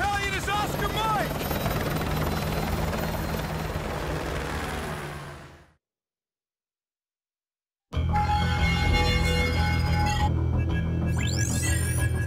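Helicopter in Call of Duty Modern Warfare 2 Remastered, a loud steady rotor drone with whining tones, cut by a sudden silence of about two seconds before the rotor noise returns with sharp sweeping tones.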